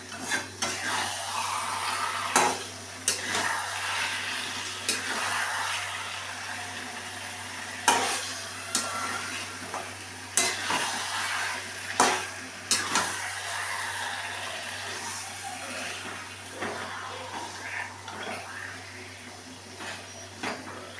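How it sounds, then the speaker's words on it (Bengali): Ingredients for Bengali mutton kosha fry in a pan with a continuous low sizzle, while a spatula scrapes and clinks against the pan in irregular bursts over about twenty seconds. "এগুলো আমি লাল করে ভেজে দেবো।"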